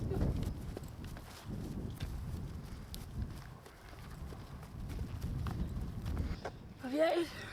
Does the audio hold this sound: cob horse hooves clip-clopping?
yes